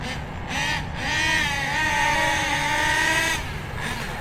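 An OFNA Titan Twin nitro RC car with a Track Stars turbo screams at full throttle, a high, buzzing whine that rises and sweeps in pitch as it passes, fairly close and loud, over outdoor background noise.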